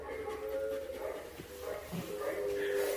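A Belgian Malinois whimpers and gives short yips and barks outdoors, close by and fairly loud, during a leash-pulling and prong-collar training session, mixed with steady background noise.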